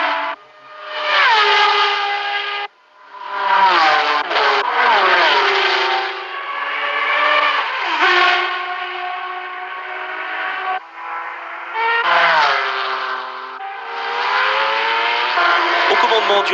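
Race cars, including Ferrari Daytona and Porsche Carrera, at the 1973 24 Hours of Le Mans, high-pitched engines wailing and shifting pitch as they pass, loud and continuous with brief dips between cars.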